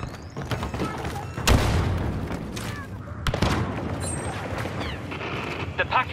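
A grenade detonates in the Star Wars Battlefront II video game as a sharp, loud broadband blast, followed by another burst a couple of seconds later over constant battle noise and scattered gunfire.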